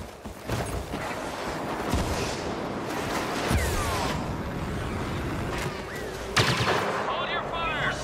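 Blaster fire crackles through a speeder bike battle in a Star Wars video game, repeated sharp shots and bursts over a dense rumbling mix of engines and effects, with a voice speaking in the background.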